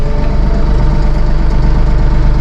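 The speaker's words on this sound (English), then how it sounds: "We're at idle speed." A Massey Ferguson 1M.40 eHydro compact tractor engine idles steadily, heard from inside the deluxe cab as a loud, constant low rumble and drone with no speech.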